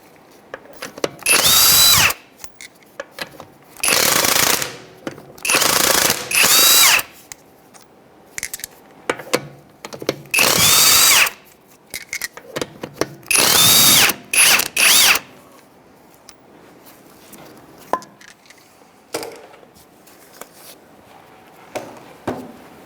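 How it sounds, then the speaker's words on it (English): An impact gun with a 17mm socket removing lug nuts from a 2007-2013 Mitsubishi Outlander front wheel, loud close bursts of hammering whir, about six long runs separated by pauses with faint clinks and handling noise. "I'm going to use a 17mm socket and go ahead and take out the lug nuts and the tire."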